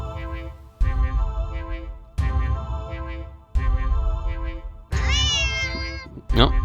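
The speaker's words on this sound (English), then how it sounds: "that's just a normal cat sound" Repeated cat meows from the video game Do NOT Take This Cat Home, four long loud drawn-out calls with brief gaps between them, the last ones rising and wavering, clear and close.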